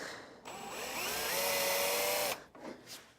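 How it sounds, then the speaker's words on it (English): A handheld drill with a 1/8 inch bit runs for about two seconds with a high, steady whine that dips slightly in pitch under load, then cuts off, followed by faint handling noises. "I've got a 1/8 inch drill bit in my drill here"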